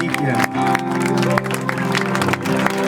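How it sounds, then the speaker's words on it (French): A crowd at a street demonstration claps and cheers in sustained, dense applause with scattered sharper claps, while voices call out underneath. "On applaudit nos amis de la technique"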